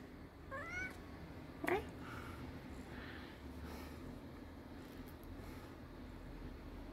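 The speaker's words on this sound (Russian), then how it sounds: "Девушка, ну-ка скажите мяу" A cat gives a couple of short, faint meows a little way off over a low steady hum, then the room goes quiet.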